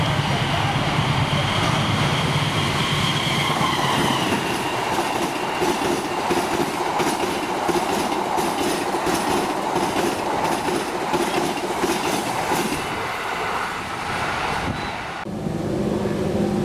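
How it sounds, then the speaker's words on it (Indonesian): Extra Sembrani train 7007C rolls past at close range, a loud continuous roar of wagons with steady clickety-clack from the wheels and faint squeal, easing slightly near the end. "Kemudian ini kereta api Sembere tambahan 7007C"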